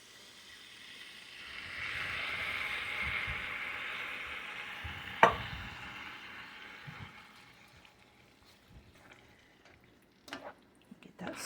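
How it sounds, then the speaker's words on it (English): Kielbasa sausage heating in a pan gives a soft, faint sizzle that swells and fades, with a sharp clink midway and a few scraping clatters near the end, with no talk. "You can hear my kielbasa is heating up here"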